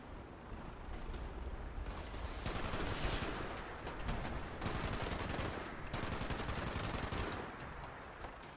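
Sustained gunfire in the video game Fallout 76, dense rapid bursts of shots in several stretches with short lulls between them, fairly distant and steady.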